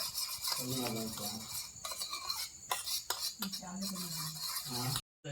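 Beaten egg being mixed into a coating for Malvani-style fried chicken, with a spoon scraping and clinking in a bowl in uneven strokes while voices murmur nearby.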